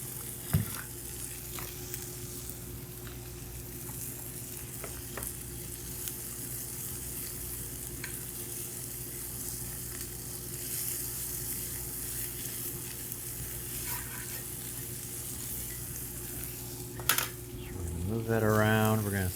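Vegan butter sizzles in a pan with a continuous soft frying hiss, broken by an occasional light knock. A sharp clack comes near the end, followed by someone talking.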